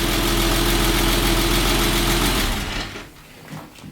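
A Porsche 986 Boxster engine idles after an engine swap, a loud, steady close rumble that fades after a few seconds into quieter background noise.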